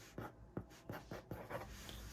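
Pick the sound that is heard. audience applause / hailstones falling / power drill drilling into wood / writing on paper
writing on paper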